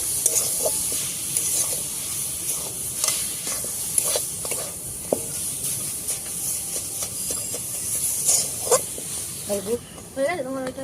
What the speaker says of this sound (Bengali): একটু হালকা নাড়িয়ে নিয়ে আমি এবার গুড়টা দিয়ে দেবো।